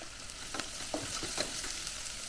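Spices frying and being stirred in hot oil for a Tamil-style fish curry, with a steady low sizzle and several soft scraping stirs, close and fairly quiet, with no voices.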